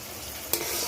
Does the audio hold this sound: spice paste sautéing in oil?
yes